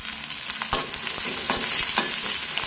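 Ginger, garlic and green chillies fry in hot oil in a pan, giving a steady close sizzle throughout, with light scraping taps from stirring at intervals.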